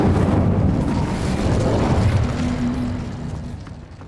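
An Incendio fire spell cast in Hogwarts Legacy gives a loud, sustained roaring burst that swells and then slowly fades over several seconds, close and full.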